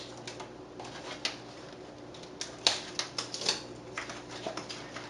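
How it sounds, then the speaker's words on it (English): Scissors snip through white strapping tape wrapped around a wooden mason bee nesting block, giving a series of sharp, irregular clicks over a steady background hum, close and fairly quiet. "I'm going to be taking these off with just a pair of scissors."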